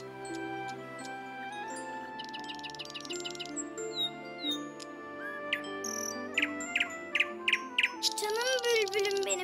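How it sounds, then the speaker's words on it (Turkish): A nightingale sings brightly and variedly with rapid trills, chirps and whistled phrases over a steady low tonal background, growing busier toward the end. "Baba bak, bülbül şarkı söylüyor."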